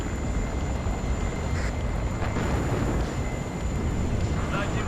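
Helicopter rotor and engine noise from the real-time strategy war game WARNO, a steady broadband rumble filling the whole stretch at constant loudness, with faint game effects layered in and no clear speech.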